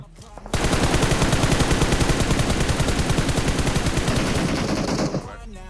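Rapid sustained automatic gunfire in the battle royale game PUBG Mobile, a loud continuous burst lasting several seconds at close range, starting abruptly and cutting off near the end.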